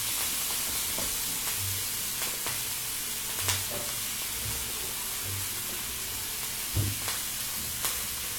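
Steak sizzling steadily in a pan at medium-high heat with garlic, thyme and butter, a continuous close hiss and crackle broken by a few soft taps and stirring knocks.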